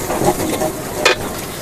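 Ground green chili paste lands in a hot pan with a steady frying sizzle and a brief louder hiss burst midway, close and continuous throughout.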